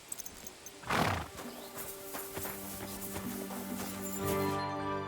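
In the video game Kingdom Come: Deliverance 2, a grey horse snorts and whinnies close by, followed by soft hoof movement and a low, steady ambient hum.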